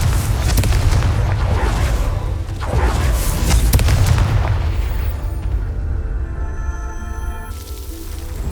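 Confringo blasting spell explosions in the Hogwarts Legacy video game: a loud string of deep booming blasts with crackling bursts, repeated over several seconds before fading into a lower rumble.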